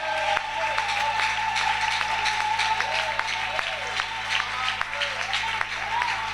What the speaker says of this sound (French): Est-ce qu'on peut acclamer très fort le Seigneur Jésus-Christ?